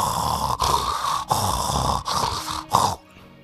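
A preacher imitates snoring with his voice, making three long rasping snores separated by short pauses, loud and close, followed by quiet.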